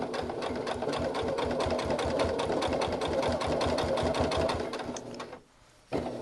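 A sewing machine runs at a steady fast pace, stitching binding onto a quilt with a regular stitch of about length 2. The close, even mechanical chatter continues for several seconds, then stops briefly and starts again.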